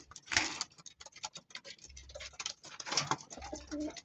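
Pigeons in a loft coo in soft low bursts, with light pattering and flutter around them. A few sharper sounds come close by in a quiet room.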